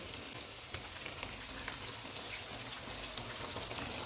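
Ginger and garlic masala frying in a pan for chicken karahi: a steady, quiet hiss of sizzling oil with scattered small pops and crackles, no voices.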